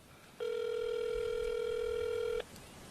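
A telephone gives one steady electronic tone lasting about two seconds during a prank call, loud and clear over low background hiss.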